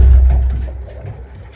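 Pigeons coo in a loft in a low, close, steady murmur that fades slightly over a short stretch, with no voices.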